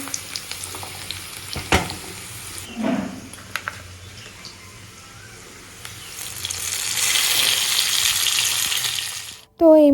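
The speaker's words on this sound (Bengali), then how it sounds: "পেঁয়াজটা ভাজছি" Onions frying in a pan in a home kitchen, a sizzle that swells into a loud steady hiss in the second half, preceded by scattered clinks and knocks of utensils.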